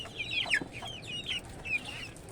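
Domestic chickens at a Bangladeshi village poultry setup with a rooster and chicks, clucking in several short bursts over a steady low background, fairly close with no talking.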